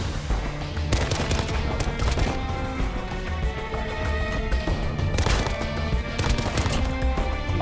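Rapid gunfire from the Renetti pistol in Call of Duty: Modern Warfare, sustained fast shots in dense bursts over loud, busy match noise throughout.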